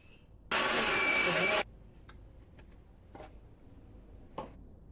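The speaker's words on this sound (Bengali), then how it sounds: "এইবারে রেডি করে রাখা মশলাটাকে মিক্সিং জারের মধ্যে ট্রান্সফার করে দিলাম। এটার একটা স্মুথ পেস্ট বানিয়ে নিচ্ছি।" A mixer grinder whirs loudly for about a second while blending prepared spices into a paste for an egg curry, then cuts off, leaving faint clicks and handling sounds.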